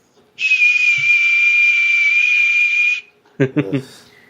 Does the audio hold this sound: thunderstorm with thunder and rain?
no